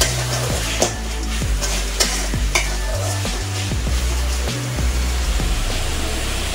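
Masala sizzles loudly in hot oil over a high flame while making a mushroom and prawn curry, with steady close frying hiss broken by repeated stirring scrapes and clinks of a spoon against the pan.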